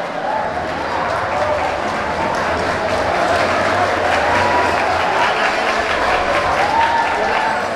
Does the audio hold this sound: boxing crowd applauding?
yes